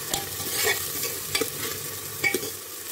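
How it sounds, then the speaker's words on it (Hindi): Coarse rajma masala paste frying in a pan, a steady close sizzle broken by a few sharp scraping stirs of the spoon. "अभी हम इसको फ्राई होने देंगे अच्छे से"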